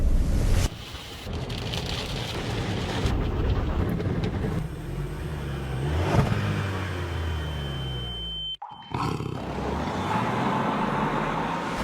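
Dense road traffic crawling bumper to bumper, a continuous loud rumble of engines and tyres with passing vehicles sweeping by and a brief drop near the end before the drone resumes.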